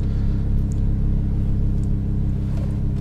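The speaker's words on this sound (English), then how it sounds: "the V10 in this car really just has so much personality. It sounds so good." A 2011 Lamborghini Gallardo LP560-4 Spyder with a V10 engine runs at a steady idle, a deep, even rumble close by with no talk over it.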